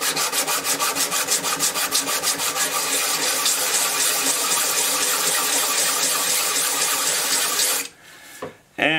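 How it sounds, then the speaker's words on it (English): Sanding by hand with 220-grit sandpaper, a steady rhythmic rasping of quick back-and-forth strokes, close and continuous, stopping near the end with a brief scrape. "I took some 220 sandpaper and I just did this."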